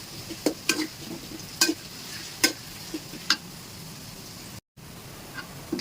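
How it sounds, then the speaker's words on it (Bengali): Chopped onions fry in a pan with a steady, close hiss, punctuated by sharp clicks and scrapes of a spoon stirring against the metal. "পেঁয়াজটা এখন আমি ভেজে নেব"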